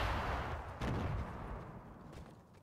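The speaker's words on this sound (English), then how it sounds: "They're nades." Grenade blasts from the Fortnite video game: a dense, rumbling low boom with a sharp extra burst near the middle, fading slowly over nearly three seconds, fairly quiet in level.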